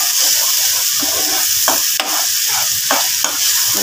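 Garlic ginger paste sizzling with browned onions in a pan, a steady close frying hiss with occasional scraping clicks of stirring.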